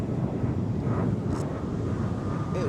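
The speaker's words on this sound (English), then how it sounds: "It was quiet and now there's an airplane that's going by." An airplane passes overhead as a steady low rumbling drone that fills the background evenly for the whole stretch, fairly distant, with a touch of wind noise.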